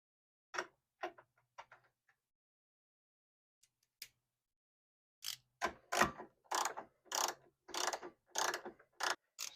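Ratchet tightening bolts during a coilover install on a Honda Acty kei van: a few short clicks, a brief pause, then a rapid run of sharp, close ratcheting bursts in a quiet garage.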